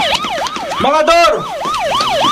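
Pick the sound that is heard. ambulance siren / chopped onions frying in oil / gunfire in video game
ambulance siren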